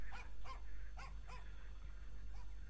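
Dogs bark on the streets in the video game GTA San Andreas: several sharp yelping barks in a quick cluster, then a couple more, over a constant low game hum.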